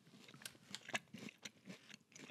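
Someone bites into and chews a layered protein bar with a crunchy middle, producing a series of quiet, close crunches at irregular intervals with no talking.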